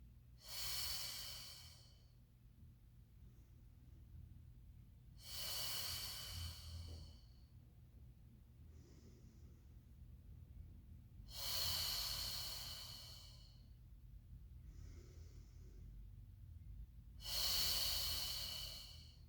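Slow, deliberate breaths during a Pilates foam roller mat exercise, with four loud breathy exhales spaced about every five seconds and two softer breaths between them, heard close and alone with no talking.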